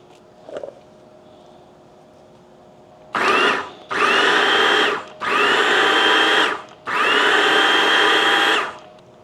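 After a brief knock, a food processor chopping garlic, onion and celery whirs in four loud pulsed bursts of roughly a second each, separated by short pauses.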